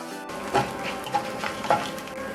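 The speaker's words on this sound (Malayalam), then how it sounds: "നമുക്ക് അരിഞ്ഞു വെച്ചേക്കുന്ന തേങ്ങാക്കൊത്ത് അതിലേക്ക് ഇട്ട് കൊടുക്കാം." Coconut pieces frying in coconut oil in a kadai after mustard seeds have popped, a steady close sizzle with a few soft stirring knocks.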